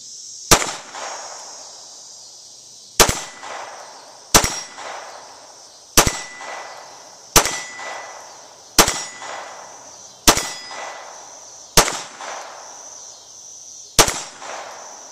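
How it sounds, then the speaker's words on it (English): Gunshots striking a steel target at a shooting range, ten sharp metallic clangs spaced one to two seconds apart, each ringing briefly with a bright tone, loud and close with no talking. "Just shoot at that back steel target there."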